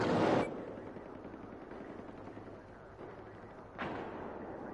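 A shotgun blast fires in a video game: one sharp, loud boom at the start decays into a low rumble, followed a few seconds later by a second, softer report.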